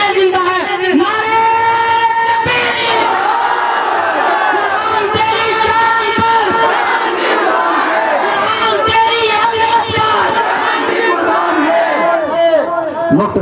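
A large crowd at a Tahaffuz-e-Quran rally in Bawra Shumali, Pakistan roars a slogan in unison. Many voices shout together loudly and continuously, with rising and falling chant calls layered over one another.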